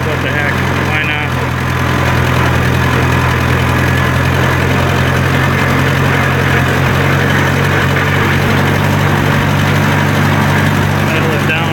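A vehicle engine runs steadily for a lap around a yard, a loud, close, unbroken drone with a low, even hum from start to finish.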